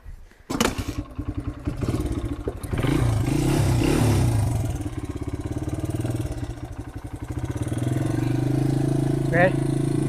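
A Freightliner semi truck engine cranks briefly and fires, then settles into a steady, loud, rumbling idle that carries on for several seconds while people talk nearby.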